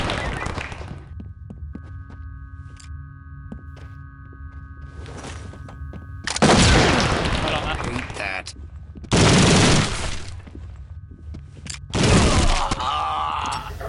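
Gunfire from suspects shooting in the SWAT 4 video game: three loud, dense bursts of rapid shots, each lasting a second or two and separated by quieter gaps with faint background sounds.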